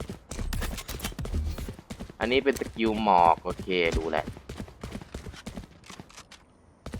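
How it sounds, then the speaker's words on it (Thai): Rapid character footsteps in Valorant patter steadily beneath someone talking, with quick repeated thuds continuing when his voice pauses. "ตัวนี้เสียงเท้าดังครับ ผมเคยได้ยินเสียงเท้าอยู่โคตรดัง"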